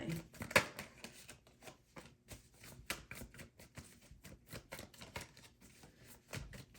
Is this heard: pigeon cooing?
no